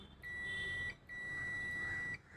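A UNI-T UT210E multimeter giving two steady electronic continuity-test beeps, each lasting under a second, close and clear over quiet room noise.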